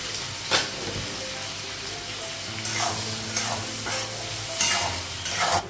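Chopped onions fry in a pan with a steady, close sizzle, punctuated by several scraping stirs and clatters of a spatula.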